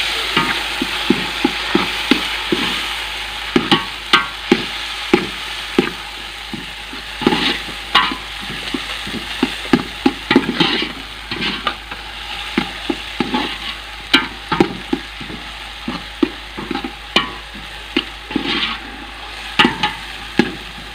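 Tomatoes frying in a pan with a steady crackling sizzle, punctuated by frequent rhythmic scrapes and taps of a spoon stirring against the pan, close and continuous with no speech.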